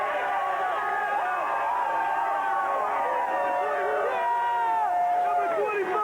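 Wild crowd of San Francisco Giants baseball fans celebrating the NL West title clinch, a dense, continuous roar of cheering, whoops and shouting voices, loud and sustained throughout.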